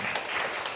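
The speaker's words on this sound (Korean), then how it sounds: "오늘 귀한 그 왕님의 그 노정을 말씀해 준 우리 김가병 훈사님께 큰 감사의 박수를 보내드리겠습니다." A church congregation at a Korean-language Thursday worship service applauds, a dense, steady wash of clapping filling the whole short moment.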